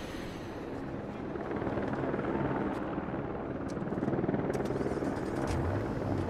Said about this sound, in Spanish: ¿Qué hace un helicóptero?